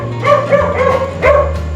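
A dog close by barks loudly three or four times in a quick, uneven series over a low steady hum, with no talk.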